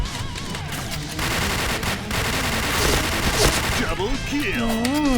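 Dense, sustained gunfire in the online shooter Point Blank, with rapid overlapping shots running throughout and a voice briefly audible near the end.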